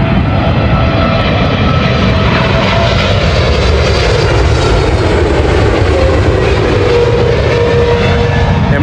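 An Emirates airliner coming in to land at a London airport, a loud steady jet roar overhead that holds throughout with a slowly shifting whine, no voices.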